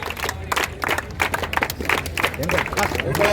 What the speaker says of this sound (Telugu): అందరూ చప్పట్లు కొట్టాలి.